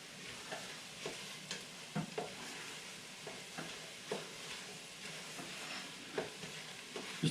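Garlic sizzles in hot oil for a shrimp and sausage gumbo, a soft, steady frying hiss broken by the scrape and clack of a spoon stirring the pot every second or so.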